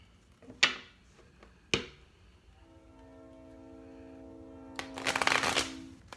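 Tarot cards are riffled and shuffled in a couple of sharp bursts, with a soft rumble and a drawn-out horn-like tone from a passing train in the background.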